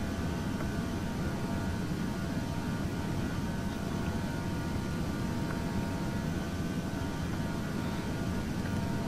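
Steady, loud roar of Airbus A320 engines running at full takeoff/go-around thrust in a flight simulator, a dense unbroken rumble that fills the whole stretch with no voices.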